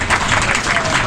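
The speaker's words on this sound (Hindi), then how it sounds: "ताली बजाओ ना" Applause from an audience in a hall, a dense, steady wash of clapping that is loud and close throughout, with no gaps.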